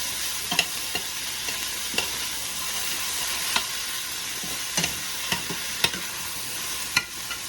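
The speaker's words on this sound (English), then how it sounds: "I don't want it to sweat, that's why I keep stirring it." Chicken chowmein ingredients sauteing in a pan on a stovetop, a steady soft sizzle running throughout with repeated light scraping stirs at irregular intervals, close and moderately quiet.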